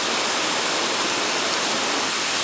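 Water gushing steadily from a garden hose on a farm where pigs gather to drink, a continuous broadband splashing hiss with no pauses and no voices.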